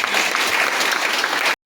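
A church congregation at a Sunday service claps to acclaim the Lord, a dense burst of loud applause that cuts off abruptly.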